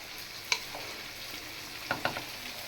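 Mixed vegetables with papaya are sautéed in a pan, giving a soft, steady sizzle with a few sharp utensil clicks against the metal.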